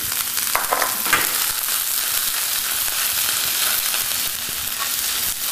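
Carrots and garlic sauté in olive oil in a pan, a continuous bright sizzle with occasional crackles and stirring, close and steady.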